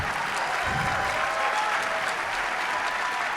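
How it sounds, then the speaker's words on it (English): Steady applause from a keynote conference audience greeting Priyanka Chopra Jonas at SXSW, a dense, even clapping that holds throughout at moderate distance. "Yes, that deserves a huge cheer."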